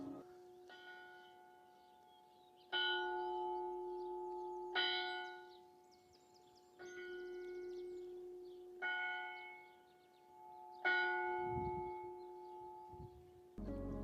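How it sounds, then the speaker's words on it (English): Church bells ring out in a slow series of resonant strikes in a town in Abruzzo, Italy, each tone hanging and fading before the next, heard from some distance. "Oh, church bells."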